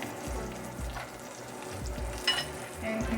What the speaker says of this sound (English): continue to saute the onion